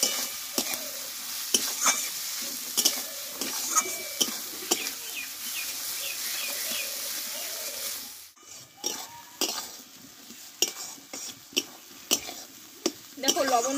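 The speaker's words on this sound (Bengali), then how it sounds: "এই 5 থেকে 6 মিনিট মতো মশলাটা ভালোভাবে কষে নেব।" Masala with tomatoes and onions is stir-fried in a pan: a soft, steady sizzle runs under repeated sharp scrapes and clinks of a spatula against metal, nearby, with a brief quieter pause partway through.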